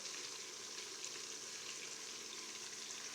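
Onions and tomatoes fry in a pan for chicken biryani, giving a steady, even sizzle with a soft crackle, close but fairly quiet, with no speech.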